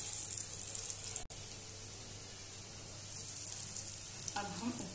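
Potato lollipop balls deep-fry in hot oil, giving a steady, bright bubbling hiss throughout, broken by one brief click and then a short swirl of sound near the end.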